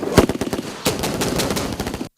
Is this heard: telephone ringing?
no